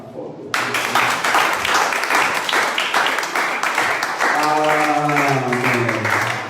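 Loud congregational applause fills a church, bursting in suddenly and continuing as a dense crowd of hands clapping, with a sustained voice or musical tone rising above it toward the end.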